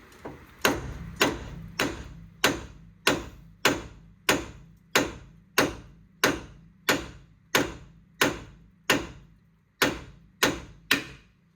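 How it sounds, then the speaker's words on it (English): Repeated sharp metallic hammer strikes on a ball joint of a Mazda 6 2.2 Skyactiv diesel, about a dozen and a half at a steady, even rhythm, each with a short ringing decay, close up. "give it a couple good whacks with a hammer and it should be loose"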